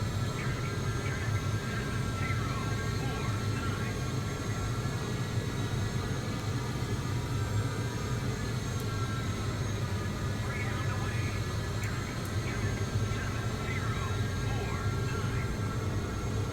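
An F/A-18 jet flies in a naval combat video game, sending out a steady, loud roar with a hissing edge that drones on throughout while someone talks over it.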